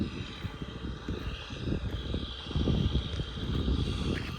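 An MTZ 892.2 tractor pulling a cultivator through a field gives a close, continuous, rumbling engine drone with uneven low pulses.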